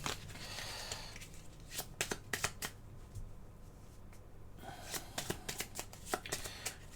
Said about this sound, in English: Okay, and we're going to do a reshuffle.